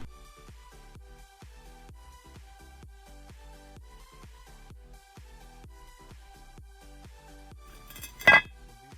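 A sharp metallic clink rings out once near the end while a brake rotor bolt is removed from a Mercedes ML55 AMG W163, following quiet, rhythmic mechanical ticking in a garage.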